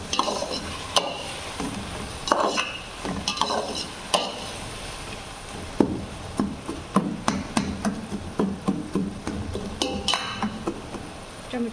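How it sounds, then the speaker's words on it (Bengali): Tomatoes cooking down in a pan are stirred with a utensil, giving repeated scraping clinks and knocks against the metal over a soft steady sizzle, close and fairly quiet, with no talking. "একটু ভালো মতো লাড়া দিয়ে নেই, নাহলে আবার লাইগা পড়বে"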